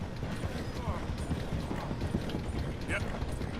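Horse hooves gallop in a steady, close clip-clop rhythm in Red Dead Redemption 2, mixed with game noise and a voice talking over it.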